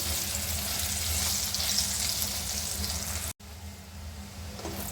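Chicken skin pieces fry in oil as a dense, steady hiss close by, cut off by a brief dropout, then resuming quieter, with no voices.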